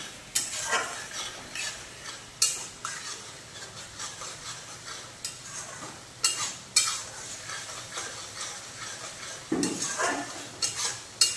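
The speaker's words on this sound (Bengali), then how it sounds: "মশলা থেকে তেল ছাড়া পর্যন্ত মশলাটা ভালো করে কষিয়ে নেব।" Masala being sautéed and stirred in a pan for a fish and elephant-foot-yam prawn dish, with repeated scraping stirs and a light sizzle running steadily underneath, close and moderately loud, no talking.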